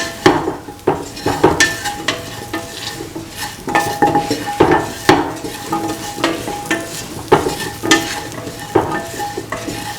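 Spiced potato and mung bean rice is stirred and mixed in a pan, with repeated loud scraping strokes of a utensil against the metal over a light sizzle, rhythmic and close.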